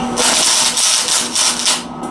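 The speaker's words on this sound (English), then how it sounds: "And there's the second tack weld." Tack welds land on a metal frame for a pedal power apparatus: a close series of four loud, crackling bursts of harsh hiss, each under half a second, separated by brief pauses.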